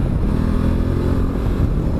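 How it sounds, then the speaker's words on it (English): A 950 motorcycle engine pulls steadily at part throttle while riding, a continuous loud low rumble with no talk over it. "I'm nowhere near all the way on this throttle."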